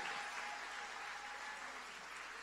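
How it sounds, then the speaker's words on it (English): Audience applause fills a community meeting hall, a steady wash of many hands clapping at moderate distance, slowly tapering toward the end. "Another round of applause for William Duguay."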